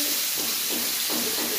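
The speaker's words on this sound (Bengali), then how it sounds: "ওই যে তিশা রান্না করতেছে, ভাজি করলা তুমি" Vegetables frying in a pan, a continuous bright sizzle and hiss that stays steady and close with faint pulsing throughout, no voices.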